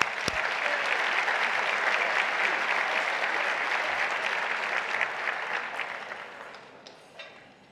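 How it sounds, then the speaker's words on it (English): Sustained audience applause at the Central Houston, Inc. 2016 annual meeting, a broad crowd of clapping hands, moderately distant, holding steady before gradually thinning and fading out near the end. "So let's give them a round of applause."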